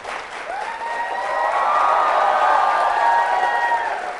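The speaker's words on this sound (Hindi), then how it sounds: "अपने लिए तालियां जोरों से बजाइए, जोरदार तरीके से, जोरदार, जबरदस्त तरीके से" University students at a Valentine's Day quiz show clap loudly and steadily, a full, sustained roar of applause mixed with cheers and whoops that swells midway and holds.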